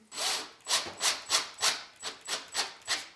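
Screws driven by hand into a wooden bird feeder to fix a hinge, heard as eight regular scraping, rasping strokes at close range, each rising and fading, with no talk.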